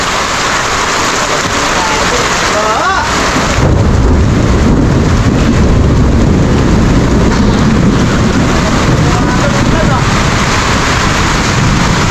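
Heavy, steady rain roars throughout while low rumbles of thunder roll underneath, growing stronger partway through; loud and close.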